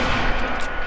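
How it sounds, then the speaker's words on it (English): A single shotgun blast in Fortnite, short and loud, with a harsh burst and quick fading tail in a brief moment of gameplay. "I don't even know why I shot the shotgun"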